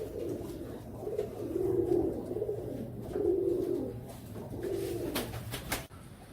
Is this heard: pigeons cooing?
yes